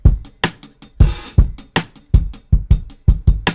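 An EQ'd drum track with punchy kicks, crisp snares and bright hi-hats plus a short cymbal wash, playing in a quick, steady groove, loud and up front with no voices.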